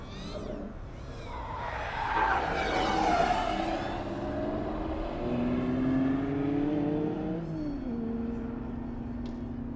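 A Honda Integra Type-R or Porsche Boxster Spyder corners hard on a race track, engine note climbing then dropping as it shifts, with a building tire squeal and steady road roar throughout.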